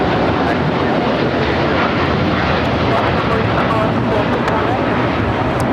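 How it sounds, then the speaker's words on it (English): A United Airlines Boeing 787-9 Dreamliner takes off at LAX on a flight to Hong Kong, its engines a loud, dense, continuous roar from start to finish. "This is United Airlines 801 taking off to Hong Kong on the 787-9 Dreamliner."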